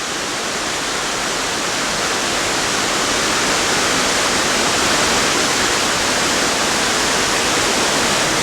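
Waterfall near Burlington, Vermont, falling into a small pond below a canyon wall: a dense, steady roar of rushing water, loud and unbroken from start to finish, with no voices.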